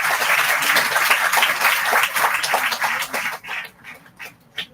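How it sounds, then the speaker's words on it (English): Conference audience applauding at a college research conference, fairly loud clapping that thins and breaks into scattered separate claps before dying out. "Kindly give them a big round of applause."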